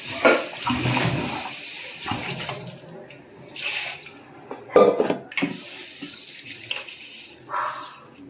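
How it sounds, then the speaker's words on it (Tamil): Green gram is washed in water in a kitchen vessel, with irregular sloshing and swishing, occasional clinks against the pot, and brief bursts separated by quieter pauses, close and fairly clear without talk. "ஒரு 2 முறை கழுவி எடுத்துக்கலாம்."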